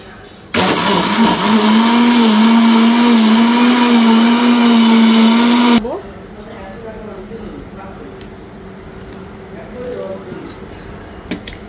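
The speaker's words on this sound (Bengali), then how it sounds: "আর সরিষা কাঁচামরিচটা একটু ব্লেন্ড হতে একটু সময় লাগে" A kitchen blender grinds mustard and green chili for borhani, a loud, steady motor whine for about five seconds that cuts off abruptly, followed by quieter handling sounds and speech.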